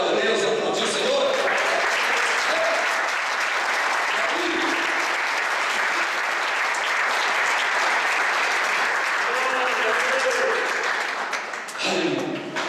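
A church congregation applauds in a long, dense, sustained burst of clapping that fills the room, with voices faintly mixed in, before it fades out near the end.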